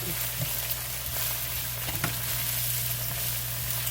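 Potatoes and Brussels sprouts sizzling in a pan: a close, steady frying hiss with occasional scraping knocks from stirring, over a low constant hum.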